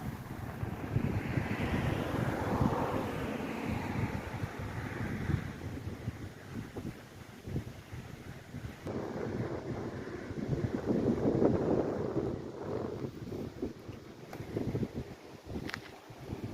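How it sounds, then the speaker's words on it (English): Gusty wind buffeting outdoors beside the ocean, a steady loud rumbling roar that swells and eases for the whole stretch, with no voices. "It's a wee bit gusty out here today"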